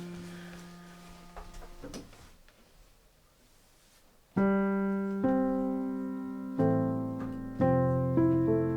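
Native Instruments Maverick virtual piano at its default middle tone setting: notes ring out in sustained chords after a quiet stretch, each new chord entering firmly and decaying slowly, with no talking.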